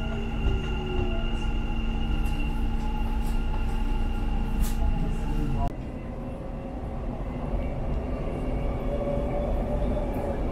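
Dubai Metro train running through the interchange between the red and green lines: a steady, loud rumble of wheels and motors with tonal whine, easing to a lower, rougher ride partway through.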